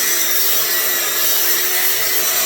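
An old Black & Decker power tool grinding a handmade metal riser adapter for a Harley Dyna, a steady high-pitched whine with rasping abrasion, continuous and close for the whole stretch.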